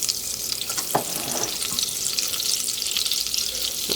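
A tablespoon of butter melts into bacon fat in a hot pan for a cheese sauce, giving a bright, steady sizzle with a couple of brief clinks of movement, no talking.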